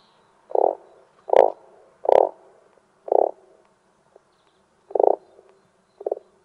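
Six short, low croaks of a frog imitation made with audio plugins, spaced irregularly, each a brief throaty pulse with a faint click on a couple of them, alone with no talking.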